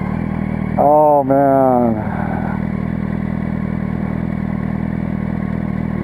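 A Yamaha R1 sport motorcycle hums steadily under a helmet-muffled ride, with a brief voice exclaiming early on over the engine drone.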